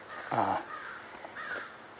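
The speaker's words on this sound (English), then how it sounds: "that crow is now flying overhead" A single crow gives a loud, harsh caw nearby as it flies overhead, followed by a fainter second call, in an otherwise quiet outdoor setting with no talking.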